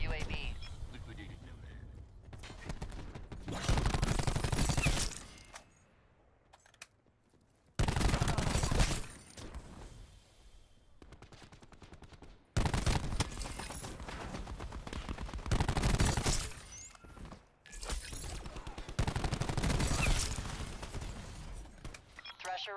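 Heavy gunfire and fusillades from a military video game come in several long loud bursts separated by quieter gaps, with radio-style voice callouts between them.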